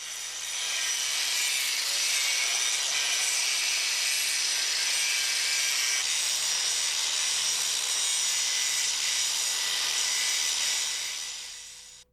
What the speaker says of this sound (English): Hey, it's time to grind.